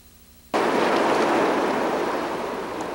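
Ottawa River water rushing steadily, a broad, loud wash like surf or rapids that starts abruptly and continues unbroken, with no voices.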